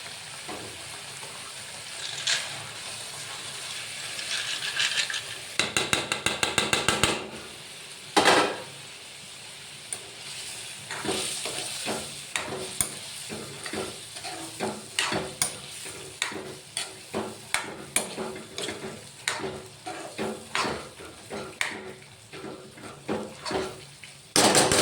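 Moong usal tipped into a sizzling thick gravy in a pan and stirred, with a brief wet slosh as it goes in, then a steady fry hiss under repeated close spoon scrapes and knocks against the pan.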